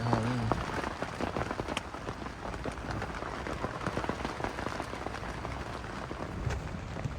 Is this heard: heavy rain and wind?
yes